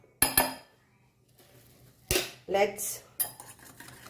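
A metal spoon clinks and scrapes against a bowl while chicken is mixed with Kashmiri red chili powder for tandoori chicken, with a few sharp taps and scraping strokes set apart by short pauses, close by and moderately loud.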